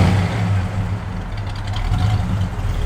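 The V8 engine of a 1965 Mercury Comet Caliente convertible runs with a deep, steady rumble and a slight rise in revs, heard close and loud throughout.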